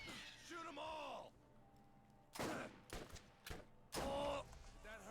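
Gunfire in the video game Borderlands, sharp loud bursts of shots in several clusters, mixed with shouting and groaning voices and reverberant game effects, close and intense.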